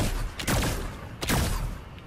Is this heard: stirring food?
no